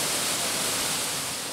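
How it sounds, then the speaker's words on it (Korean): Water pours from red sandstone cliffs into a swimming hole in the Utah desert, a steady broadband rush filling the short stretch at an even level. "붉은 사암 절벽 위에서 강렬하게 쏟아지는 물줄기는 보기만 해도 시원해진다."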